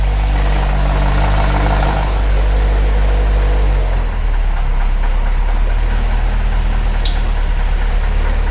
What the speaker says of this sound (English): there's reverberations back there coming from my pipe that's dumping the exhaust out